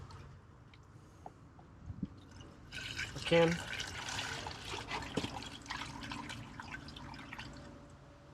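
Liquid poured back through a funnel into a jar, a wet trickling and dripping stream under quiet talk, close by.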